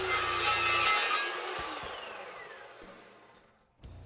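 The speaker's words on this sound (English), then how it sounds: "let's combine the two and cut through a piece of 1/2-inch steel pipe" A chop saw cutting through 1/2-inch steel pipe held in a clamp, a loud grinding whine that gradually winds down as the blade spins down.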